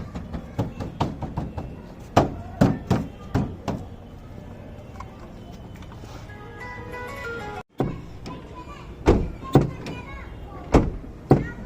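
A Renault Kwid's doors, fitted with damping material, are knocked and shut repeatedly in a workshop, giving a series of sharp thuds and raps with a heavier slam near the end.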